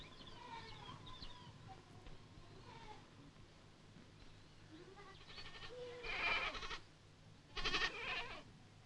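Goats in an enclosure in the desert town of Oualata, Mauritania, bleat in two loud bursts after quieter, more distant calls, with little else around them.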